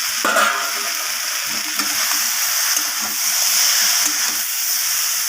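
Fried okra and bitter gourd are stir-fried with spices in a pan for a prawn dish, giving a loud continuous hissing sizzle with intermittent soft scraping stirs underneath, close up and without speech.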